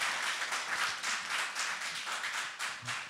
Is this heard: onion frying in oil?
no